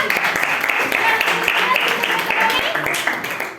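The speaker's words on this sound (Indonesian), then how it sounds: "tepuk tangan untuk kelompok dua" Steady applause from a classroom group for presenting students fills the whole stretch, a dense patter of many hands clapping at even loudness, with some voices mixed underneath.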